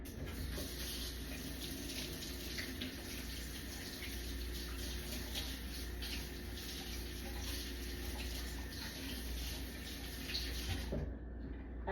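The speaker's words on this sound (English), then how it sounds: "Rinse off my spoon real quick." A kitchen tap runs steadily to rinse a spoon, a constant close hiss of flowing water lasting about eleven seconds before it cuts off near the end.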